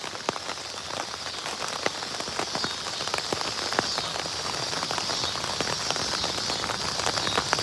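Steady rain pattering on a surface during a fishing trip in a rainstorm, a dense, even patter of close drops with scattered louder taps, no talk.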